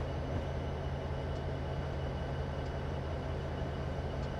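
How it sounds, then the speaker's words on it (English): An NS SD70M-2 locomotive on Stevens Pass in Train Simulator 2015 rumbles along without slowing, a steady, dense rolling roar with a low engine drone and no talk. "This train just doesn't want to slow down and stop"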